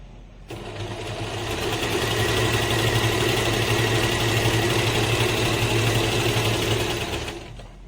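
An Usha Janome Excella sewing machine runs a stitch: the motor winds up, then a steady, loud rapid whirring hum with fine needle chatter holds for about seven seconds before stopping, heard close and alone.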